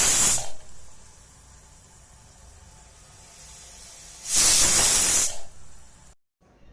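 Pressure cooker cooking carrot halwa lets out two loud hissing steam whistle bursts, one brief at the start and a longer one near the end, with quiet steady hiss between them.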